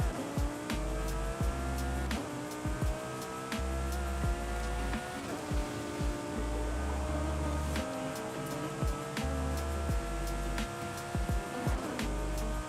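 A car races in Forza Horizon 5 with a loud engine that rises in pitch through the revs, drops at each gear change and rises again in a repeating pattern, without talk.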